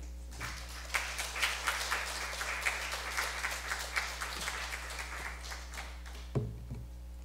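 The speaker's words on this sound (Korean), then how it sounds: "박수로 우리 맞이하겠습니다" Applause rises from a congregation during a Sunday service at a church in Yeoju, welcoming a missionary to the front: steady, moderately close clapping with scattered sharper claps, lasting several seconds before fading, over a low constant hum.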